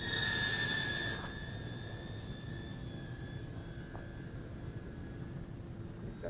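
A tiny EMax Tinyhawk II brushless micro FPV racing drone on a 1S battery whines with high, thin motor tones, louder at first as it passes, then steadier and fainter as it flies around outdoors.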